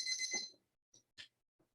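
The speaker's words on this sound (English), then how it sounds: "Your timer just went off" A timer goes off during a red tea tasting, giving a bright electronic beeping tone followed by a few short, clipped beeps, alone and fairly close.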